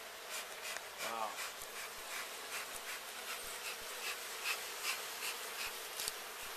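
Honey bees swarm around an opened backyard beehive after it has been smoked and pulled apart, a faint, continuous buzzing drone close by, with people talking quietly now and then.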